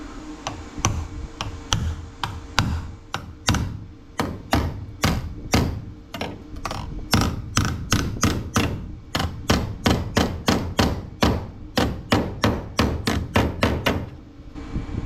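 A hammer taps repeatedly on car sheet metal during metalwork on a 1969 Pontiac Catalina wagon, sharp close metallic knocks in irregular bursts, then a faster even series of strikes.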